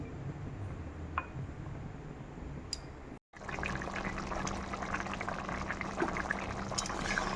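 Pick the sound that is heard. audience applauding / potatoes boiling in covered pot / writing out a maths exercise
potatoes boiling in covered pot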